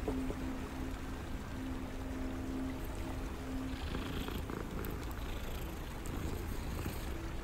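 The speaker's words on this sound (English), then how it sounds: "Oh, hi, kitty." A cat purring in Hogwarts Legacy, a soft, continuous low rumble with steady rhythmic pulses, close and fairly quiet, over faint background ambience.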